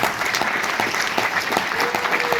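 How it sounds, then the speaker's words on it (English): A theatre audience at a film festival Q&A breaks into loud, close applause, a thick continuous patter of clapping hands holding steady for the whole short burst. "Can we just have another round of applause?"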